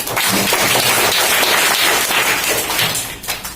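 Schoolchildren in a government school class clap together in a dense, continuous patter of hands, loud and close, lasting a few seconds before tapering off.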